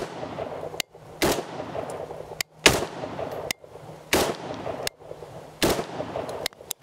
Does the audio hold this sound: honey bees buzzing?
no